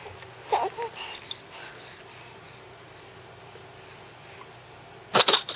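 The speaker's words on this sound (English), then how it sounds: "There's no reason to make believe you're coughing now." A young girl puts on a pretend cough, one short burst early on and a sharper, louder cluster of coughs near the end, separated by quiet room tone.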